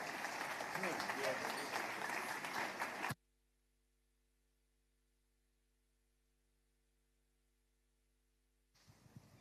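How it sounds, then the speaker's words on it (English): An audience at an entrepreneurship talk in Lagos bursts into loud, dense applause for about three seconds, which cuts off abruptly into near silence, with faint sound returning only at the end. "Ladies and gentlemen, please give a round of applause for Sinari Danjo."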